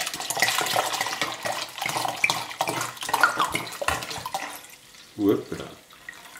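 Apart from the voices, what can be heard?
red wine being poured for a wild boar marinade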